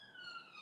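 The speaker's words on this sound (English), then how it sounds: "God, I can hear sirens going off" A siren wails faintly in the distance as a thin, steady tone that drifts slightly in pitch.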